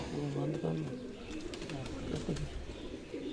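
Pigeons coo in low, repeated throaty calls close by on a rooftop, with voices talking over them and a busy outdoor background.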